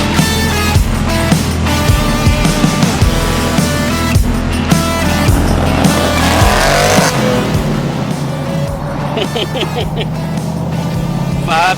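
An LS3-powered hot rod with a 6-speed on a test drive roars loudly through repeated rising engine pulls and gear changes. Speech runs over the engine noise.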